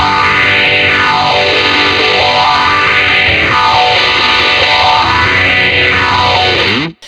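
A loud, gritty electric guitar chord through an even overdrive-distortion blend with a Phase 90 phaser sustains for several seconds, swirling up and down in repeated sweeps, then stops sharply.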